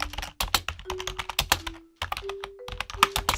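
Code being typed on a computer keyboard: quick, irregular keystrokes clatter close up in bursts, with a brief pause midway before the typing resumes.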